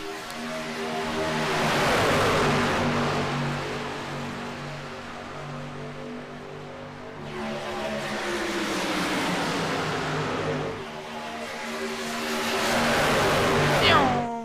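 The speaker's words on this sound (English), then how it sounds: "Don't you love the sound of 18 ripping V8s flying through your living room at 190 miles an hour?" Eighteen V8 race trucks roar around Daytona in a racing video game, engines droning loudly and steadily in two long swelling passes with a brief dip between, a continuous whooshing wall of engine noise.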